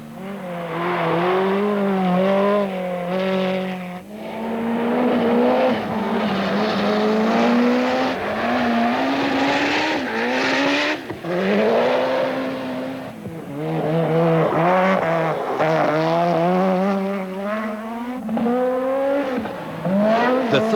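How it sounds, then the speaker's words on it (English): Rally cars racing up Pikes Peak, including a Peugeot 205 Evolution, Ford RS200 and Mazda RX-7, engines screaming loudly with repeated rising revs, gear changes and brief tire squeal, close and continuous. "Scheckter is doing well in his 205 Evolution, just keeping up with Wilson in the Ford RS200 and Millen in a Mazda RX-7"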